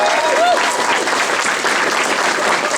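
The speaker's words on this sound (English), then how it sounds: "so big round of applause for them" Sustained applause from a convention audience at a closing ceremony, steady and dense throughout with a brief whistle near the start.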